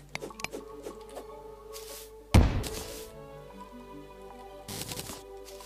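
A bomb detonates in the video game Terraria, one sudden booming thump midway with a short rumbling tail, set among soft game clicks and chiming effects.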